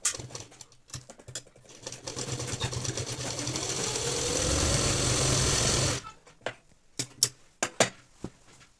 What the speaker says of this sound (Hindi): अब इसमें आधा इंच पे सिलाई लगा देनी है